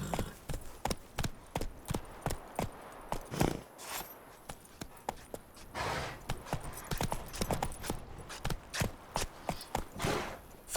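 Roach, Geralt's horse in The Witcher 3: Wild Hunt, gallops with a steady, rapid clatter of hooves that carries on without a break.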